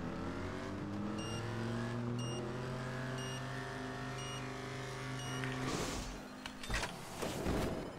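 A car engine in GTA 5 drones steadily at a high, revving pitch for several seconds, then drops away into a burst of rough noise and scraping as the vehicle is disrupted.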